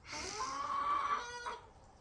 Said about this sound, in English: I'm being snuck up on by chickens because they're going to come try to help with this